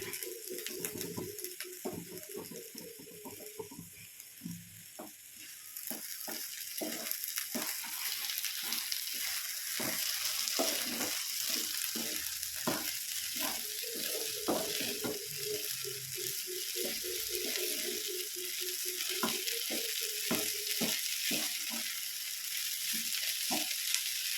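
Potatoes being scrambled in a frying pan for podimas make a steady sizzle with repeated stirring scrapes, while pigeons coo clearly nearby throughout.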